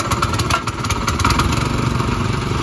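A farm machine fitted with a 7.5 HP Italian engine runs loud and close with a steady mechanical clatter, continuous for the whole stretch.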